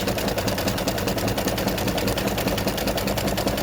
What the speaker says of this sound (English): It's doing the satin stitching on the inside part of the heart.